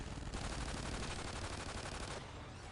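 Rapid machine-gun-like bursts from automated turrets in the Extinction video game, a dense, continuous rattling stream of shots at steady volume.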